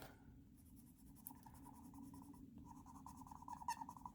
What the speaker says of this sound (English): that one squeaks on the paper